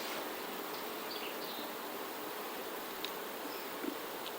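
Honey bees buzz around heavy, honey-laden hive frames during a honey harvest, a steady diffuse hum filling the scene with a few brief sharper passes of individual bees close by.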